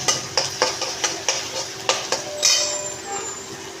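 Garlic and chopped ginger fry in a pan for tadka, giving a steady sizzle under rhythmic scraping stirs about twice a second, with a brighter hiss swelling near the end.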